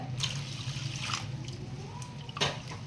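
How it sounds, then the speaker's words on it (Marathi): Hot water pours and trickles steadily into a strainer with a few splashy bursts, close by, over a low steady hum, while making a crab curry. "ह्याच्यात पाणी घालून चांगलं असं गाळून घेऊ गरम पाणी घालूया"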